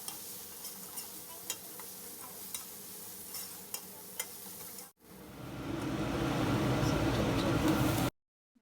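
Eggplant pieces cooking with salt in a covered pan give a steady sizzle and frying hiss, with light stirring clicks at first, then a louder continuous sizzle that cuts off abruptly.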